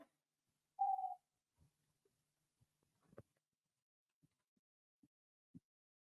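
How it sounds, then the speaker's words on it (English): A single short owl hoot sounds in a very quiet setting, followed by faint scattered taps and rustles. "What was that? Oh, only an owl."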